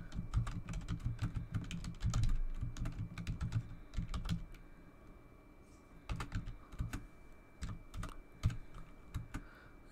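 Rapid bursts of computer keyboard typing while writing a Python script, close and fairly loud, with short pauses between flurries of keystrokes.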